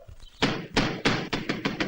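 Someone pounds on a door in an old 1973 Hindi family drama, a run of loud, close thuds in an uneven rhythm, about seven blows in two seconds with no voice over them.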